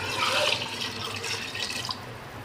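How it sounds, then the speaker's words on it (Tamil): Water poured into a cooking pot for chicken biryani rice, a steady splashing, trickling pour that starts strong and tapers off over a couple of seconds, close and alone. "இதில் நம்ம தேவையான அளவு தண்ணி ஊற்றிட்டு அரிசியை போட்டுக்கலாம்."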